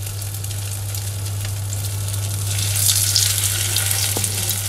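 Köfte mixture spooned into a hot pan and spread out, frying with a steady close sizzle and a low constant hum underneath, the crackle brightening briefly toward the end.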